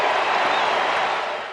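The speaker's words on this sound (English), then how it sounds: "I think kind of a funny boo type thing, turned into a lot of cheers as you got, further around the bases" Baseball crowd at Citizens Bank Park in Philadelphia, a broad roaring wash of cheering and applause from a large stadium audience, steady and loud, slowly fading.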